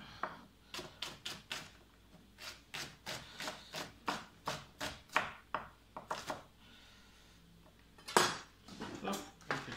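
A kitchen knife cuts through garlic and shallot on a board for a Gaumais pâté, a run of crisp, evenly spaced chops with brief pauses and one louder knock near the end, close and alone.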